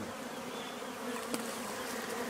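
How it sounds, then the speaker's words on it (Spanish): Swarm of honey bees buzzing at a large hive during a bee rescue, a dense, steady hum close by with no voices. "Aquí ya vemos que está la mayoría de las abejas"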